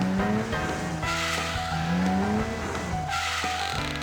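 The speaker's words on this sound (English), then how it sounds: "The car rockets down the winding mountain roads, accompanied by the fierce sounds of squealing rubber." Video-game car tires squeal repeatedly as the vehicle speeds down winding mountain roads, sharp pitched screeches sliding up and down over a continuous engine roar, loud and close, no talking.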